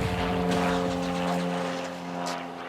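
A police helicopter circles over a housing estate in Lyon, its steady rotor and engine drone continuous and fairly loud, with harmonic hum throughout.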